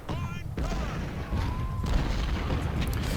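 Artillery booms from a Civil War battle game, the Battle of Shiloh, with howitzers under fire: a couple of heavy low blasts and rumbling, mixed with faint voiced shouts in the background.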